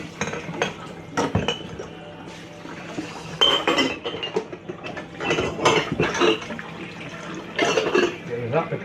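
Glass jars clinking and knocking together while water is tipped out of them in a kitchen during orange marmalade making, a series of sharp close clinks and clatters with splashing between them.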